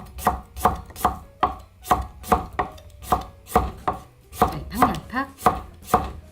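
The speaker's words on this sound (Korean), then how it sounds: "근데 제가 한번 썰어 볼게요." A knife slices through crunchy dongchimi radish, a Korean water kimchi, on a board, giving about a dozen crisp, evenly spaced crunching cuts, close and clear with no talk.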